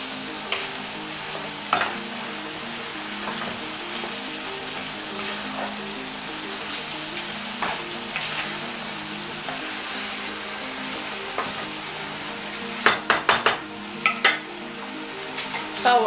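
Vegetable stew with stock cube stirred in a pot, a continuous simmering sizzle with periodic scraping and clinking of the spoon, a cluster of sharper knocks near the end, close and steady without speech.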